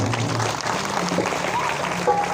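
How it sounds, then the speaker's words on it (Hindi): An audience at a Bhagwat Katha religious discourse claps in a steady, dense burst, with faint voices and tones beneath the applause. "ताली बजाए एक बार मेरे"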